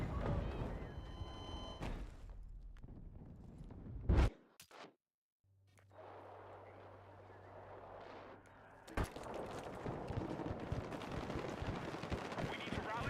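Gunfire in the video game Battlefield 6 comes as a few sharp, loud bursts amid a busy in-game battle din, with a person talking over parts of it.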